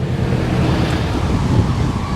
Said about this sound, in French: C'est un truc de malade le vent là.